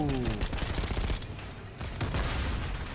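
Rapid gunfire from the video game Call of Duty Black Ops 6, with loud bursts of shots filling the clip without pause and game sound effects layered underneath.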